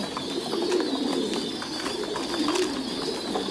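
Thai Titan pigeons kept in a breeding flock cooing in low, steady, overlapping calls, a continuous close murmur with faint higher chirps above it.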